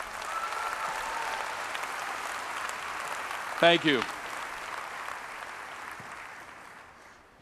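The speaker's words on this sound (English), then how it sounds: "give a huge thanks and a huge round of applause for our team" Audience applause at a conference for the organizing team, a steady wash of clapping with a brief spoken thanks partway through before the sound tapers off.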